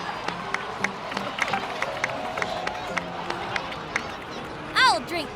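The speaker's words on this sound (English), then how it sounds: "please give another round of applause for them" Crowd clapping and cheering in the Genshin Impact video game, heard as a scattered, irregular patter of claps under a steady murmur of voices, with a bright rising whoosh of sound near the end.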